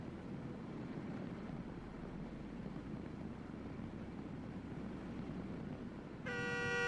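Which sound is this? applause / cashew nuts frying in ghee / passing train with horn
passing train with horn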